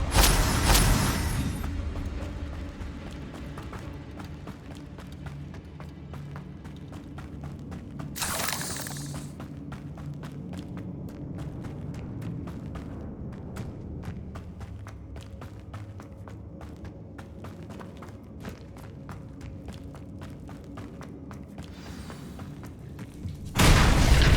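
Fire spell blasts from Hogwarts Legacy bursting spider sacks: sharp explosive bursts open and close a stretch of low rumbling game ambience with scattered footsteps, with a short blast near the middle.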